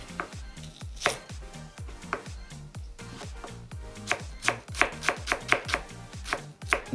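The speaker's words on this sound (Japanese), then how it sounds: "みょうがみじんします" A knife minces myoga ginger on a cutting board in quick, repeated close chops, speeding into a dense rapid run toward the end.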